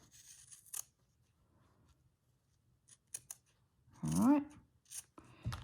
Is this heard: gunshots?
no